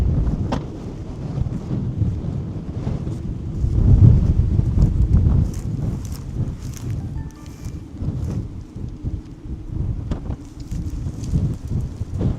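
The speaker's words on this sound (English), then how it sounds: "it's freaking dust storm out here" Strong wind from a dust storm on the Texas Panhandle buffets the microphone in loud, uneven roaring gusts that swell and ease, with a brief surge in the middle and no voices.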